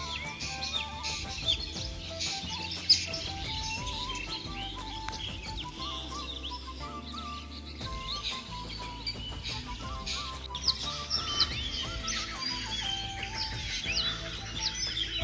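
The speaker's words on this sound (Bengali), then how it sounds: "সকালে যখন এই পাখির ডাকটি শুনি" Birds calling in a village at morning, with repeated clucks and chirps that suggest chickens or a rooster among songbirds, layered over a steady rural background with no talking.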